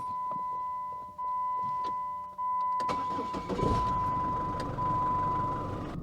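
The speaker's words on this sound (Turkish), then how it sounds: "Ön tasarıma geçmeden önce arabayı bir çalıştıralım." A steady electronic beep tone sounds alone, then the 2.8 CRD diesel engine of a Dodge Nitro 4x4 cranks and catches, settling into a loud, steady idle nearby.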